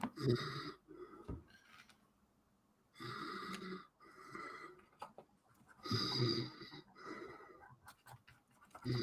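Snoring from someone, rough rasping breaths recurring in a steady rhythm, each loud inhale-like burst separated by quieter gaps, close and clear with no talking.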